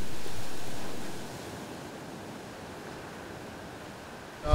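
Ocean surf breaking on Donnant beach at Belle-Île, a broad steady wash of foam that swells loud at first, then settles into a softer continuous roar, with no voices.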